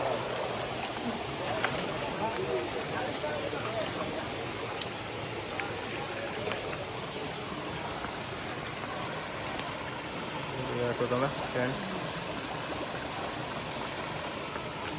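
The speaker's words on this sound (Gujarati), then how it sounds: "જોઈ રહ્યા છો તમે પાણી આવી રહ્યું છે ડુંગરમાં" Water from a stream flows down through the hills on the Girnar green circuit pilgrimage trail near Junagadh, a continuous rushing wash under occasional nearby voices and outdoor bustle.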